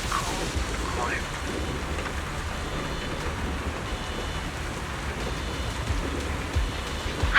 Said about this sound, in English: It wasn't heavy rain like now, but the sky was just dark.